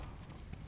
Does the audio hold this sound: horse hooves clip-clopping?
yes